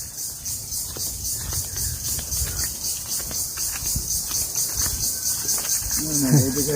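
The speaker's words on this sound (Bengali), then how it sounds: "ঝিঝি পোকার ডাক শোনা যায়" Dense, steady chorus of crickets fills a jungle track near Kazir Jata, with a roadway and fallen bamboo, pulsing continuously at high pitch with moderate loudness; a brief voice-like sound rises near the end.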